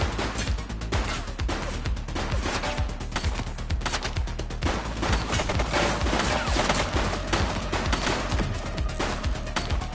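Gunfire in the police game The Precinct, a dense sustained volley of shots with crashes, loud and continuous with little talk.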